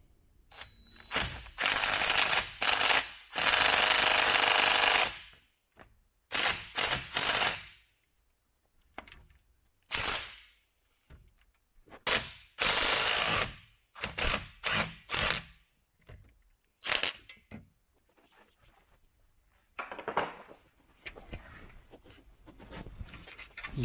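A DeWalt DCF880 18V cordless impact wrench loosens a tight nut in loud, repeated hammering bursts of varying length, separated by short pauses, with no talking.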